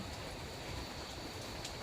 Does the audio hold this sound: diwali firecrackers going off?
no